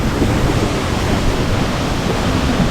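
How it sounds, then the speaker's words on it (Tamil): Shenbaga Devi waterfall at Courtallam pours down in a dense, constant roar of rushing water, loud and close, without pause. "நம்ம பாக்குறோங்கல்ல செம்பகாதேவி அருவி"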